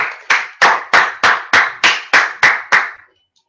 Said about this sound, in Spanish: Aplaudan pues ya